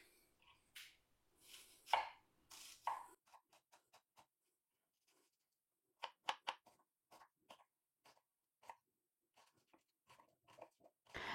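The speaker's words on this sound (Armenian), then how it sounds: "Սկզբում սոխը կտրատում եմ, որպեսզի տապակենք։" A knife chops onion on a board in quiet, crisp taps, first in a few scattered strokes and then in a quicker, steadier rhythm.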